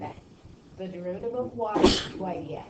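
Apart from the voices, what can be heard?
sneeze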